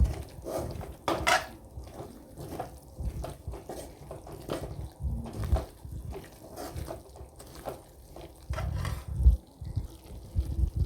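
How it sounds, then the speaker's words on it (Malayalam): Hot water being poured into roasted spice powder for pickle makes intermittent splashing and clinking of a pot and utensils, close and moderately loud, with no talk. "ഞങ്ങൾ ചെറിയ ചൂടുവെള്ളം ഊറ്റിക്കൊടുക്കും"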